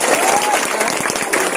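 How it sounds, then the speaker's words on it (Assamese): Applause at a school ceremony for a student honoured for distinction in the HSLC exams, a dense roomful of clapping with a voice speaking over it. "গতিকে তাৰ বাবে আৰু এবাৰ হাত চাপৰি"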